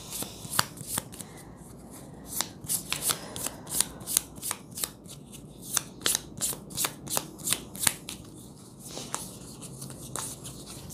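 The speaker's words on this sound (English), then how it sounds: "I'm reshuffling the cards right here, waiting for you to set your question." Tarot cards being shuffled by hand, close up: a long series of crisp, quick riffling bursts and soft taps in an irregular rhythm, fairly quiet against a still room.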